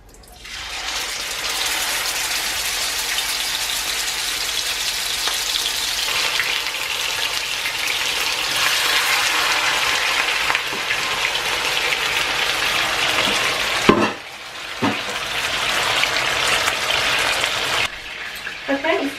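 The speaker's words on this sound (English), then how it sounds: "The oil is heating up, as you can hear it sizzling away there." Chicken pieces frying in hot oil in a pan give a loud, steady sizzle and crackle that runs almost without break, dipping briefly near the end as the pan is handled.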